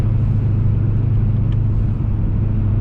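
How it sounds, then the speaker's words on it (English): A car with an aftermarket exhaust cruises at a steady 60 mph, giving a constant low rumble and road drone heard from inside, even and unbroken without talk. "So this is me cruising at 60"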